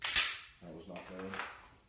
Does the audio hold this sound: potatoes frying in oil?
no